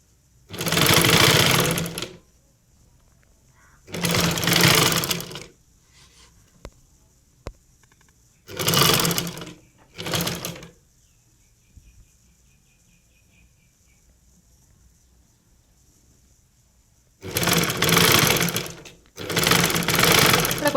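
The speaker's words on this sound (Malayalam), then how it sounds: "ഒന്ന് അടിച്ച് നിർത്താം എന്നിട്ട് നമുക്ക് സൂചി താത്തി വെച്ചിട്ട് ലിവർ ഇങ്ങനെ പൊക്കാം" A sewing machine stitches a front-slit churidar top in five loud, rapid mechanical bursts, each a second or two long, separated by quiet pauses with small clicks of handling.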